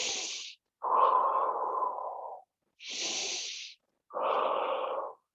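Slow, deep yoga breathing close to the microphone: four long, loud breaths alternating between a hissing inhale and a fuller, rushing exhale, evenly paced with short pauses and no talking.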